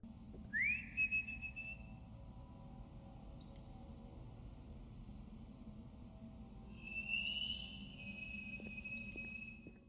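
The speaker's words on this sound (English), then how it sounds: "you heard that weird whistle back" An eerie rising whistle sounds twice in the horror video game Lost in Vivo, a clear sliding tone that swells and holds, faint and distant over a low ambient drone.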